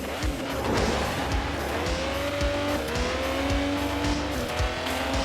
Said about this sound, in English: Alright, back again in Shanghai. Racing against Paco